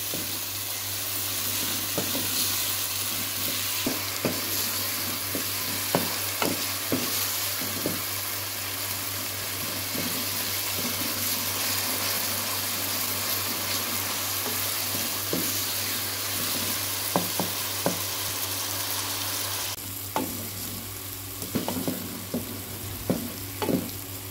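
Chopped ingredients fry in a pan for a Hyderabadi chicken masala, a steady close sizzle running throughout with scattered clicks and scrapes of stirring, no voices.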